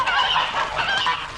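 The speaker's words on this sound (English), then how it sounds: "I looked at the geese, which was hissing and huddling in the corner of the yard" Geese in the corner of a yard give off harsh, raspy honking and hissing calls, close and fairly loud, in a continuous agitated stretch of about a second and a half.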